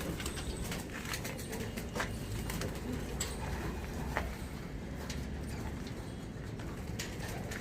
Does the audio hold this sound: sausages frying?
no